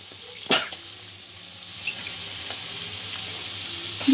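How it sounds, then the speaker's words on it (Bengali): Spice paste frying in oil, oil starting to separate, with a faint steady sizzle close by, an occasional stirring scrape and a brief cough near the start. "মশলাটা একটু কষিয়ে নেব 2-1 মিনিট। মশলা থেকে তেল ছাড়া শুরু হয়েছে"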